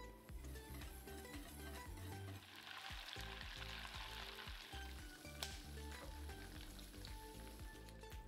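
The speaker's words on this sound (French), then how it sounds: "on fait fondre notre beurre et on va le laisser cuire jusqu'à ce qu'il obtienne une couleur assez brune" Butter melts and browns in a pan into beurre noisette with a vanilla pod, a quiet, dense crackling sizzle that carries on unbroken throughout.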